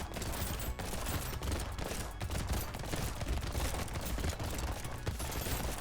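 Weapons in the top-down arena shooter Brotato fire continuously at swarming enemies, a dense, unbroken wash of rapid gunfire-like shots and impacts at steady high loudness for several seconds, with no talking.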